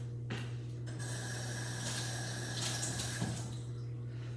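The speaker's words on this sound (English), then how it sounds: "you're gonna take 2 of the paper towels and you're gonna go soak them in water" Water runs steadily from a household sink tap as paper towels are soaked, a soft continuous splashing stream heard close by under a low steady hum, with no one speaking.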